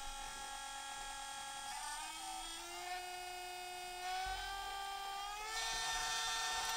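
A sensored brushless RC motor whines steadily at half throttle, a high tonal hum whose pitch creeps gradually upward, heard close with no talk.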